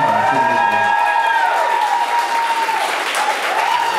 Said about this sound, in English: Give a massive, massive cheer to this man over here.